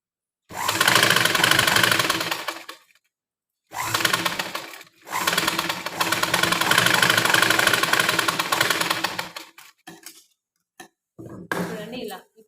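A sewing machine stitching a blouse made from leftover saree fabric, running in several loud bursts with short pauses between them and a brief final run.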